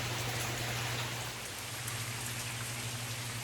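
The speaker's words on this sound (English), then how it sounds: "But out in the lake, boy, it is raining." Rain falling steadily on Muddy Run Reservoir, a dense even patter and hiss of drops across the water, continuous and fairly close, with a low hum beneath and no talking.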